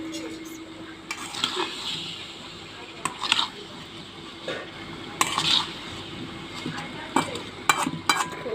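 Tomatoes, green chillies and dried fish are stir-fried together in a pan, with intermittent spatula scrapes and clatter over a low, soft sizzle.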